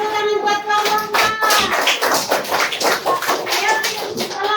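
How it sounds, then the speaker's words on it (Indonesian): An audience at a student group presentation breaks into applause, with a burst of dense, steady clapping from a small crowd and voices mixed in. "Kasih tepuk tangan buat kelompok"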